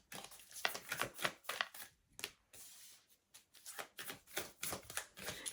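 Tarot cards shuffled and drawn by hand, a run of quick papery riffles and slaps in close bursts with a short pause midway, near and fairly quiet.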